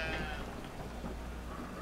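A sheep in the video game Brothers gives a single short bleat over a steady, rain-like hiss of game ambience, with no talking.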